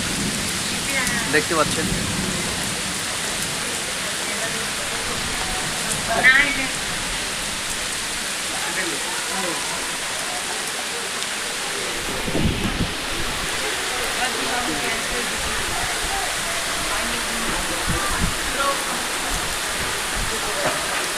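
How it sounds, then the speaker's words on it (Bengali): Heavy rain pours steadily over an open town sky in Beldanga, a dense continuous hiss with a few louder bursts, while someone speaks briefly over it. "প্রচণ্ড বৃষ্টি।"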